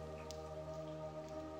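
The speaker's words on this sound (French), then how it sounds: "vous regardez par la fenêtre la beauté d'un jour de pluie" Steady rain falls in a quiet, low-level scene from the game Alice Trapped in Wonderland, a soft continuous patter with a faint hum underneath and no voices.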